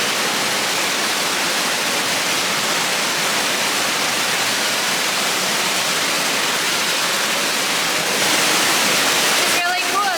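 An indoor waterfall inside Harrison's Cave pours in a dense, steady hiss and rush of falling water, loud and unbroken throughout, with a brief burst of chatter near the end.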